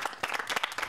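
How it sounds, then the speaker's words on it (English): A short burst of applause from an audience, dense quick clapping at moderate loudness with no voices over it. "Round of applause!"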